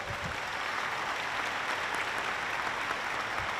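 A crowd at a formal ceremony session in Rio de Janeiro applauds Rodrigo Neves, giving steady, dense clapping that fills the hall at an even level throughout.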